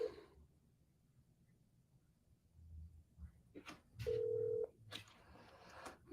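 Quiet room tone, then a few short electronic tones and one sustained beep, like a phone being dialed, with brief clicks between.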